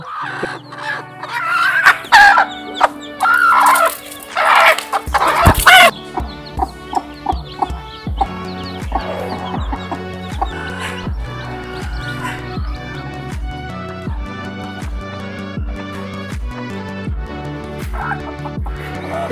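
Repeated clucks and squawks from a hen, loud and close at first, then continuing under rhythmic music with a steady beat.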